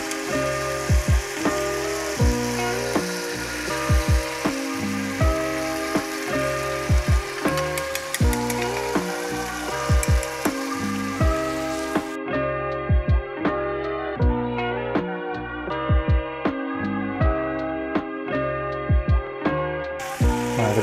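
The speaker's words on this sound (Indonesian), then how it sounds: "Kita masukin telur sekarang. Nah, ini penting masukin telurnya tuh secara memutari" Beaten eggs are poured around a pan and fry with a soft, steady sizzle for oyakodon, the Japanese chicken and egg bowl. Louder rhythmic background music plays over it.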